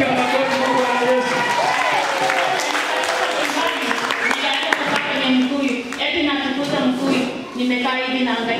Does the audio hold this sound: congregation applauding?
yes